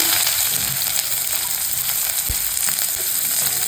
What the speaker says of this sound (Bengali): পেঁয়াজ কুচি দিয়ে ভালো করে পেঁয়াজটা ভাজা ভাজা হয়ে গেছে